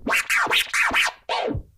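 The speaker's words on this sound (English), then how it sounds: "The rhythm scratch is made of 5 baby scratches." Turntable rhythm scratch built from five baby scratches done by hand on the platter without the crossfader: four quick swooping strokes in a steady rhythm, a short gap, then one longer stroke, close and loud.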